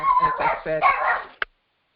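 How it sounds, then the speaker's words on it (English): A dog barks once at the mail carrier, a single short sharp bark just after a stretch of someone talking, then silence. "I apologize for my dog, but the mailman's here"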